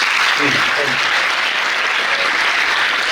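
A crowd claps for an administrative officer at a religious discourse gathering, a strong, continuous wash of applause at close range, with a few voices heard under it at the start.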